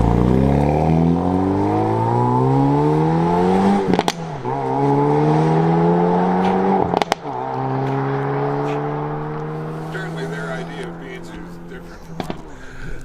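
A 2019 Hyundai Veloster N hot hatch accelerates hard and close, its engine note climbing steeply through several gears with sharp shift breaks between each pull, while a voice talks underneath.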